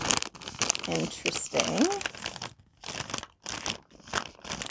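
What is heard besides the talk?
crinkling packaging being handled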